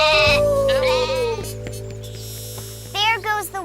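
Sheep bleat in a children's fairy-tale TV show, a wavering cry at the start and a short rising pair near the end, loud and close over a steady musical backing.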